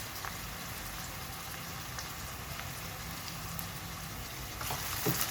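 Onions frying in hot oil for a Pakistani-style baingan bharta give a steady, even crackling sizzle throughout, close and fairly quiet, with no talking.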